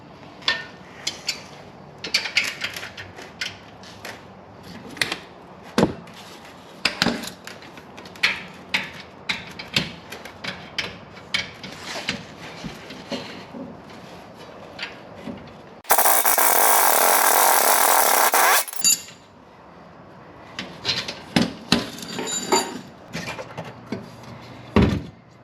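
Bottom shock absorber bolt removal on a Dodge Grand Caravan: scattered clanks and metallic ratchet clicks, then a burst of loud impact or power tool whirring for a few seconds, followed by more tool handling noises.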